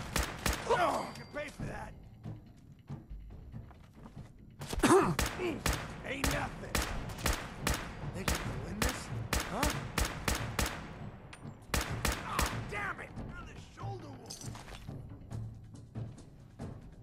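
Rapid bursts of video game gunfire, sharp repeated shots in clustered volleys with pauses between, fairly close and moderately loud, with a voice briefly heard.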